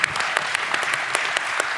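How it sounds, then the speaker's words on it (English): Audience applause at a dance class session, a steady wash of many hands clapping for under two seconds with sharp individual claps standing out. "Let's clap it up."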